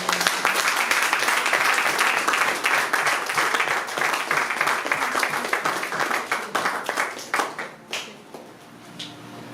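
An audience at a youth convention claps in dense, sustained applause that stays loud for several seconds, then thins into scattered individual claps and fades toward the end.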